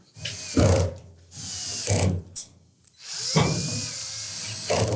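A ratchet tightening drum roller bolts on a Samsung dryer: three bursts of rapid clicking pawl ratcheting close up, separated by short quiet pauses and a couple of brief metallic clinks.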